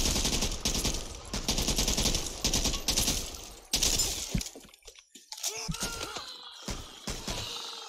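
A small rifle fires in the Back 4 Blood video game, rapid loud bursts of gunfire with sharp crackling and shattering impacts, then a quieter stretch with scattered shots and lighter effects.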